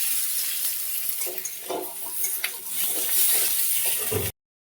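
Eggplant frying in hot oil in a home kitchen, a steady bright sizzle with crackling spits and bursts throughout, close and loud, ending abruptly.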